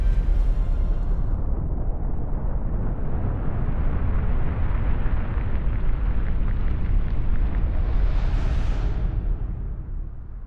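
A massive explosion erupts in the Chained Echoes video game, a loud rumbling roar that sustains for several seconds, swells to a hissing peak near the end, and then slowly fades.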